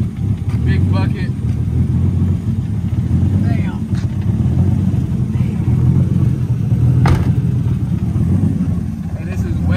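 Engine of a street GTR or Toyota Supra rumbling loudly and steadily up close, with faint squeaks and clicks over it and occasional voices.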